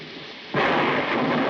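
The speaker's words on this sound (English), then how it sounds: "I love thunderstorms, don't you?" Thunderstorm in a 1948 film drama: a sudden loud crash of thunder breaks in midway and rolls on with heavy rain, sustained and close, with no voices.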